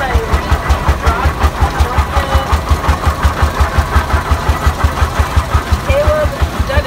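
A 1926 Rumley 30-60 S antique tractor engine runs at a parade, its slow, steady, heavy chuffing beat repeating evenly and loudly, with a parade announcer talking over it and crowd noise behind.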